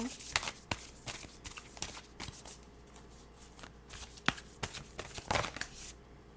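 A deck of tarot cards shuffled by hand, with repeated soft riffling and flapping bursts and a few sharp snaps as cards slip out, close and quiet, with faint talk underneath.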